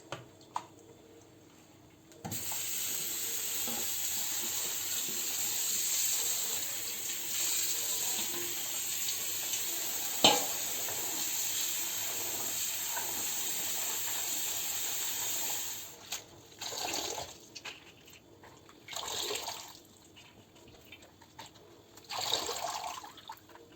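Water runs steadily and hisses for a long stretch as chopped tırşık greens are rinsed, then stops and gives way to a few shorter splashes and sloshing bursts.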